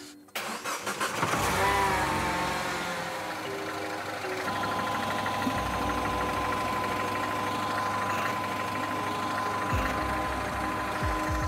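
A turbocharged car engine cranks briefly, catches and fires up loudly, then settles into a steady, close idle that runs on with no one speaking.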